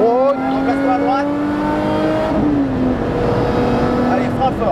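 A BMW M3 or Alfa Romeo Giulia Quadrifoglio engine revs and climbs in pitch as it accelerates hard on a race track, loud and close, then eases off briefly before pulling again.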